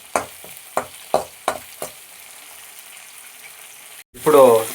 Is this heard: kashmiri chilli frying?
yes